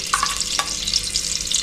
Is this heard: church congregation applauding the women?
no